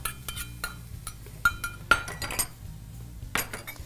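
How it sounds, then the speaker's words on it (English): Whisk clinking against a bowl while mixing a honey balsamic maple glaze with cinnamon, a run of light metallic ticks and scrapes with a few sharper clinks, close and fairly quiet. "We're going to give this a nice whisk."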